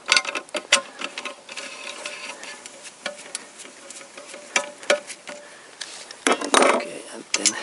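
A 10 mm socket wrench works on oil sump bolts of a GM Ecotec engine, giving repeated light metallic ratcheting clicks and taps close by, with someone talking intermittently alongside.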